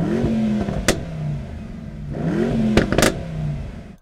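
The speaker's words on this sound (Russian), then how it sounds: "Послушаем, как звучит Mercedes." Mercedes-AMG E63 engine revving loudly and close by, two distinct rising rev blips separated by idle rumble, with sharp crackles and pops as the throttle snaps shut.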